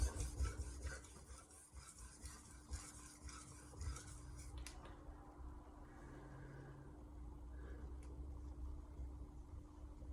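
A black nakiri knife being sharpened on a hard Kitayama whetstone, a quiet steady rasping rub of steel on stone that eases off midway and continues faintly.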